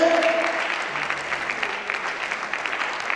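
A church congregation breaks into steady, close applause in acclamation during a French-language service. The clapping is dense and carries on throughout.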